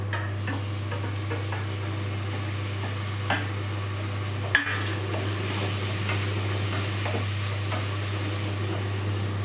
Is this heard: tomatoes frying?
yes